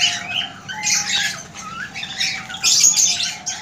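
Cockatiels squawk in an aviary, a run of sharp, shrill calls coming in bursts with short pauses, fairly close and clear over a quiet background.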